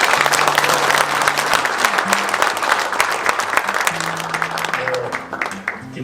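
At a Daegu-Gyeongbuk New Year gathering, a large audience applauds three presidential candidates with loud, sustained clapping. A voice speaks over the clapping now and then, and the applause fades slightly near the end.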